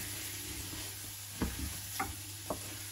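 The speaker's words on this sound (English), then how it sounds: "And you're going to mix all that in." A spoon stirring spices into chicken korma in a pan over a steady low sizzle, with a few soft scrapes and knocks spaced out across the stretch, no talk.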